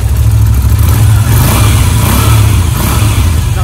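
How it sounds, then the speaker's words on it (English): A Harley-Davidson Street 750 motorcycle engine revs loud and close, a steady throaty roar with a low pulsing rumble held throughout and no talking. "Rev natin guys!"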